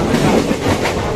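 A passenger train runs on rails from Mumbai toward Akalkot, with a loud, close, steady rumble and clickety-clack of the wheels throughout the brief moment.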